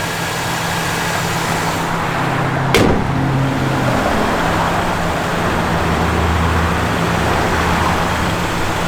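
The engine of a 1967 Chevrolet Malibu runs with a steady, close, low rumble throughout, broken by one brief sharp click partway through.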